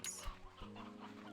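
Chickens cluck softly in a video game, a short burst of clucking over a low ambient backdrop.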